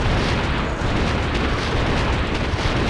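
A loud, sustained explosive roar from a rocket launcher blast in the game Enclave Light, dense and booming throughout with no pause and no talk.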